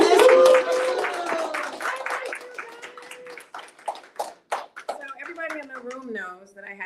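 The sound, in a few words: audience clapping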